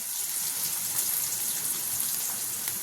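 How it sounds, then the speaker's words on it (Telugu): Onions and curry leaves fry in hot oil with a dense, even hiss and crackle that carries on without a break. The sizzle is close and fairly loud, and no voices are heard. "ఇది ఉల్లిపాయలు ఫ్రై చేసుకుందాం"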